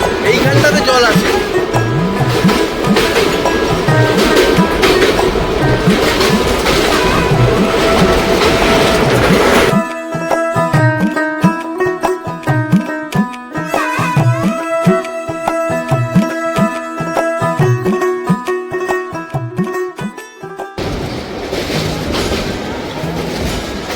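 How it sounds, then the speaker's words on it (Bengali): The Bengaluru–Howrah Duronto Express runs at speed, heard from inside a sleeper compartment as a loud rumble with rhythmic wheel clatter over the rail joints; a voice talks over part of it. "ট্রেন তখন দুরন্ত গতিতে এগিয়ে চলেছে আমাদের গন্তব্যের দিকে।"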